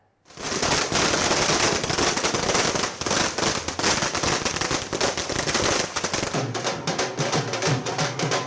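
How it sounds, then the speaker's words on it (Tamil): Firecrackers set off by party supporters celebrating an election win, a loud, dense barrage of rapid crackling bursts that runs continuously without a break, with a low rumble joining toward the end. "இதையடுத்து பாஜக மற்றும் கூட்டணி கட்சியினர் பட்டாசு வெடித்து கொண்டாட்டத்தில் ஈடுபட்டனர்."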